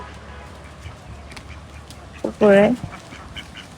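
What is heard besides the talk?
ducks quacking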